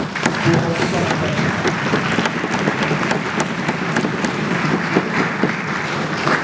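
A seated assembly at a capacity-building workshop applauds the director general, a dense, continuous patter of many hands clapping at moderate loudness, with faint crowd murmur beneath.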